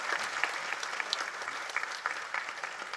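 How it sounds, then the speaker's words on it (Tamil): Applause from the audience at the Kaaduvetti film audio and trailer launch, a dense steady patter of many hands clapping throughout, fairly distant and even, with no voices standing out. "நல்லா கைத்தட்டு கொடுங்க அவருக்கு"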